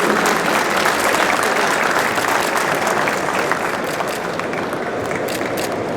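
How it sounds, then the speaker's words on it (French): Steady, dense applause from an audience fills an expo ceremony in Casablanca, sustained and even for six seconds with no break, a broad crackle of many hands clapping at once. "Sous vos applaudissements, bien sûr."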